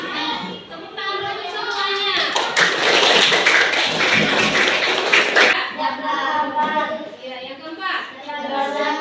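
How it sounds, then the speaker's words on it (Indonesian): Applause from a classroom group, a dense burst of hands clapping lasting several seconds, with a teacher talking before and after it. "Tepuk tangan dulu semuanya."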